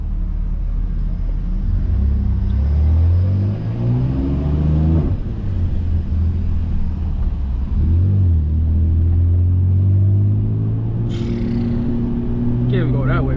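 Straight-piped 650HP BMW F80 M3 exhaust booming loud and close from the cabin, deep droning rumble rising and falling through several revs and shifts, with someone talking briefly over it.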